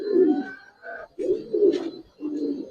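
Giribaz pigeons cooing close by, deep throaty coos in three rounded bursts with brief pauses between them, loud and clear with no talking.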